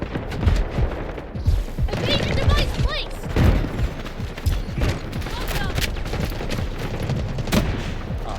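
Rapid gunfire and explosions from a Delta Force firefight, with dense bursts of automatic shots and thuds running continuously throughout, while a player talks excitedly over the combat.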